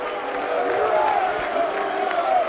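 Arena crowd at a 2012 Mosconi Cup pool match between Chris Melling and Brandon Shuff cheers and applauds in a steady, dense roar of clapping and whoops, with a commentator's voice faintly underneath.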